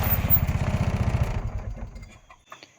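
A tractor engine chugs with a steady, throbbing low pulse on a muddy off-grid cabin building site, then cuts out after about a second, leaving faint scattered sounds.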